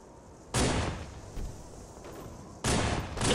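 Gunfire in a Halo video game: two loud bursts of shots, each a dense blast lasting about half a second, separated by a quieter stretch with a few fainter pops.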